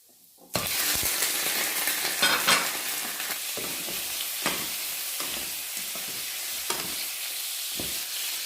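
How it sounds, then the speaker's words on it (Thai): Garlic and shrimp stir-fry in a little oil over high heat, a loud sizzle bursting in suddenly, then steady crackling with repeated spatula scrapes and clacks against the pan, no speech. "ใส่กระเทียมลงไปเลยจ้า ผัดไฟแรงนะคะ ยายจะใส่กุ้งลงไปเลยค่ะ"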